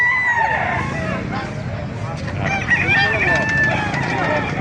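A rooster crows loudly amid a busy poultry market in Calumpit, Bulacan, with other chickens clucking and crowing around it and people talking in the background.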